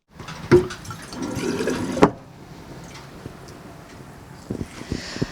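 Clean water gushes into a container at a water purification station for a town's residents, a loud rushing fill that stops abruptly after about two seconds, then quiet clinks and faint drips.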